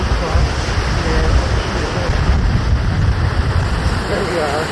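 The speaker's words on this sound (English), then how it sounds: "Pretty epic spot to watch. The waves come in" Waves surge and break against the rocky Lake Superior shore near Agawa Rock on a stormy autumn day, a loud continuous roar of surf mixed with wind buffeting the microphone.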